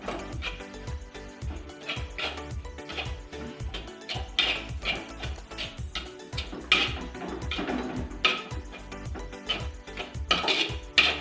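Masala seasoned with chilli powder and salt being stirred in a cooking pot, a steady run of metallic spoon scrapes and clinks against the pot wall, close and fairly loud, with no voices.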